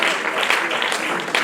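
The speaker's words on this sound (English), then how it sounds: "A big round of applause for the Honorable Minister." An audience claps for the Honorable Minister at a public ceremony, dense and steady applause filling the room with a voice running underneath.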